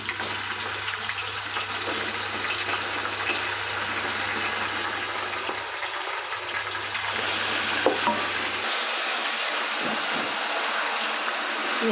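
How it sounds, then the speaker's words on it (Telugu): Ginger garlic paste fries with golden onions in a pan for Muslim-style chicken biryani. A continuous hiss and sizzle carries on throughout, briefly shifting near the end, with no voices. "అల్లం వెల్లుల్లి పేస్ట్ కూడా బాగా చక్కగా ఫ్రై అయిపోవాలి"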